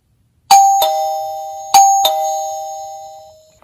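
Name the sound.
video doorbell wireless chime ringing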